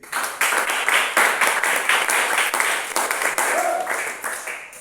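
A church congregation applauds during a Sunday service, a dense, steady wash of clapping that runs the full length at close range and fairly loud, with no talk over it.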